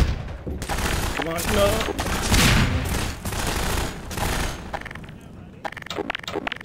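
Rapid gunfire in Half-Life 2: Lost Coast, dense bursts of loud shots and booms rattling in clusters, with someone shouting excitedly over the barrage.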